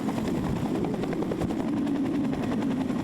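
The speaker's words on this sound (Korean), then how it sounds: "상륙군을 태운 기동 헬기도 상륙 해안을 향해 힘차게 날아오릅니다." A military transport helicopter lifts off carrying landing troops during a joint amphibious landing exercise, its steady, loud rotor thump and engine roar continuous and close throughout.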